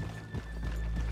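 Horse hooves clip-clop at a walking pace in Red Dead Redemption 2, a short run of soft, steady hoof falls close by, with a low, continuous game ambience underneath.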